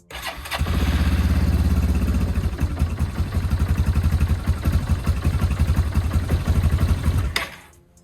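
A 2008 Yamaha Grizzly 350 ATV with a freshly cleaned carburetor cranks and catches, then runs close by at a loud, steady, slightly uneven idle for several seconds before cutting off abruptly.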